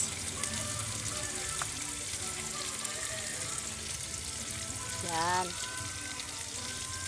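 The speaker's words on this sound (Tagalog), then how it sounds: "kumukulo-kulo na" Tomatoes bubbling and sizzling in a pan for an economical home-cooked dish, a steady broadband hiss with soft simmering crackle, close by, under brief speech and a short voiced sound near the end.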